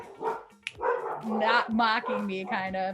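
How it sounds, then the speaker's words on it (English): Dogs bark and yip close by in a home, several sharp barks in quick succession while a person keeps talking over them. "I'm sorry about the dogs."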